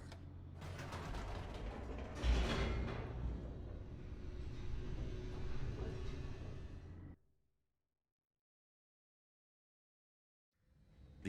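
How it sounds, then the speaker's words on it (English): An elevator in the video game The Stanley Parable descends with a steady mechanical rumble and faint creaking for about seven seconds, then cuts off into near silence. "The elevator raced downward, plummeting towards an unknown fate."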